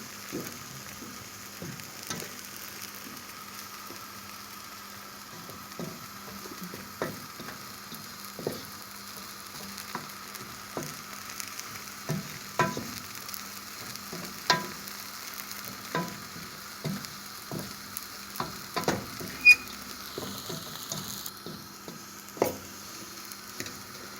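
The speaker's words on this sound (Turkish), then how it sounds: "Daha tam kızarmadı. Sık sık karıştırıyoruz." Flour halva roasting in a pan while being stirred often, with a low continuous sizzle and frequent soft scraping strokes of a spoon at an uneven rhythm, faint and close, without speech.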